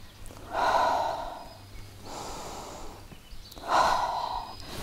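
Slow deliberate breathing during a balancing exercise: two audible inhales and exhales through the nose, close and moderately loud, with a brief quieter pause between them, no talk.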